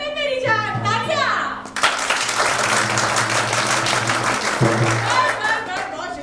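An audience at a Founders Day celebration claps loudly for a street play, a dense burst of applause lasting about three seconds, with a speaker's voice before and after it.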